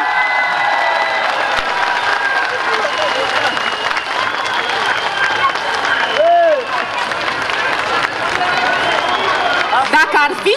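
Crowd applause for performers at a village festival in Cordun, Romania, a dense outdoor wash of clapping and cheering that runs steadily throughout, with a few shouts and whistles rising near the end.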